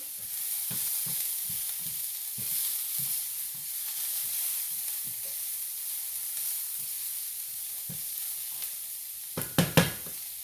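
Vegetables sizzling in a pan as they are stirred, a constant bright hiss with soft periodic scrapes of the utensil and a few louder clacks near the end, no talking.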